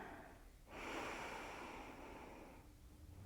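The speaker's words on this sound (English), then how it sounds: "Again, breathing in" Slow, audible breath during a yoga session for hip tightness, a steady airy exhale swelling and holding for about two seconds before fading, close and quiet with no talking.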